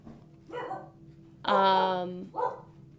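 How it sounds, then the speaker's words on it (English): A dog barks in the background with three separate bursts, the middle one a loud, sustained, tonal bark-howl, while a person talks nearby. "Sorry about my dog barking."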